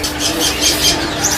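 A grey-headed tepus songbird at a bird market gives a quick run of high, thin chirps, four or five short notes in a row, fairly close against a soft background hum, with no speech.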